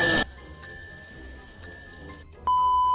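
Bell rings repeatedly while cooking in the game One-armed cook, four clear metallic strikes spaced about a second apart, each leaving a sustained ringing tone over low background noise.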